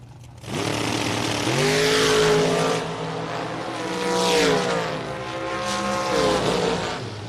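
Drag race cars, a Nova and a dragster, launch together at a strip, a loud roaring engine surge with rising and falling revs that sustains through the run and fades slightly at the end.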